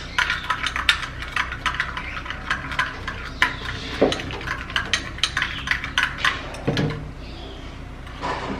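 A spoon stirs a homemade skincare mixture in a bowl, giving repeated close scraping and clinking strokes in an uneven rhythm, with no voices.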